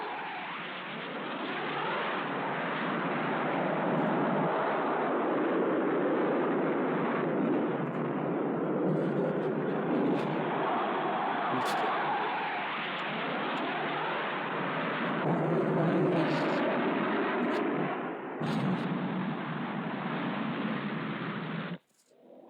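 A high-performance jet fighter aircraft produces a continuous, loud broadband roar like rushing wind, steady for about twenty seconds with slight swells before cutting off abruptly, heard through a narrow, old-recording quality.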